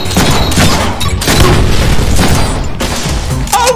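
Gunfire and explosive booms from the Deadpool video game, dense and loud throughout with repeated heavy blasts layered under continuous action noise.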